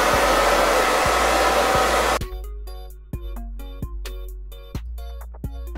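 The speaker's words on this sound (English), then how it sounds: "I actually like to take my blow dryer and help the drying process." Blow dryer drying a bald cap runs loud with a strong continuous rush for about two seconds, then switches off, leaving quiet clicks and light knocks of handling.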